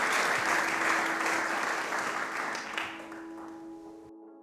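An audience at a mindfulness meditation event in a museum gives a warm round of applause, a dense, steady clapping that gradually thins and fades out after about four seconds.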